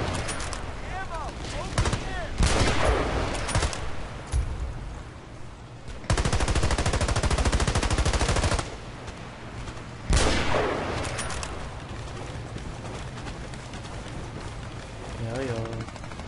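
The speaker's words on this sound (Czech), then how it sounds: "To si po mě střílí." Rapid automatic gunfire from the online shooter Battlefield Play4free rattles in dense, loud bursts with pauses between, mixed with game effects while a player talks over it.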